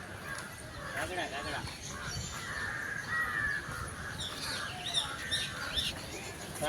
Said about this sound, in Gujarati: કાગડા છે શું છે ઉપર